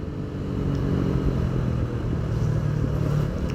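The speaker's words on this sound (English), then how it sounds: "Apache is always fun to ride, man, whatever happens." A Bajaj Apache motorcycle cruising on an Indian road near the Goa–Maharashtra border, its steady engine drone and wind rumble holding loud and close throughout with no talk.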